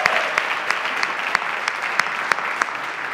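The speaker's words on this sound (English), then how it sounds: "Let's give the rubber band another round of applause." An auditorium audience applauds steadily for a live band at a district state-of-the-district event, with a dense, continuous wash of clapping and a few sharper individual claps standing out.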